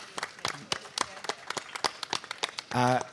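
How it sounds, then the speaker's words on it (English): Scattered applause from an audience at a literary festival book talk: sharp individual claps, fairly sparse and irregular, ending with a brief voice near the end. "a round of applause is very much necessary if you can join me"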